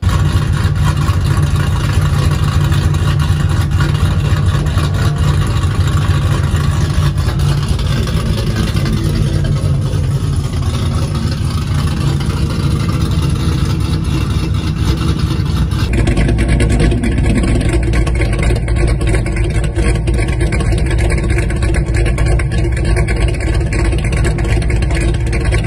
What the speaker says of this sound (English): Here's a couple sound clips of the Tomahawk cam in action.